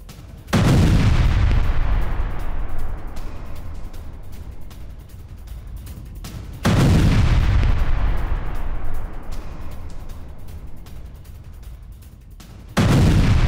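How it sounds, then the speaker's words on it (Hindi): Israeli bombardment in Gaza: two heavy, booming blasts several seconds apart, each with a long rumbling decay, and a third blast starting at the end, all loud and without voices. "गाजा में इजराइल की भीषण बमबारी"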